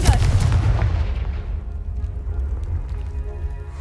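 A Confringo blasting spell explodes in the video game Hogwarts Legacy: a loud, booming burst at the start that rolls into a long low rumble and slowly fades, with no one talking over it.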